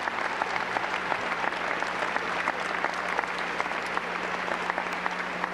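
A graduation audience applauds the class officers at a 1995 high school ceremony in Newton, Massachusetts, a steady dense wash of clapping from a large crowd that holds evenly throughout.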